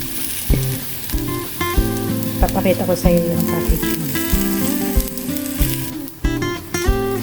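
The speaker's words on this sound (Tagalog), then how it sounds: "Magprito tayo ng blocks of tofu." Blocks of tofu sizzle and crackle in hot frying oil in a pan, a steady fry with utensil knocks and clatter while a person talks over it.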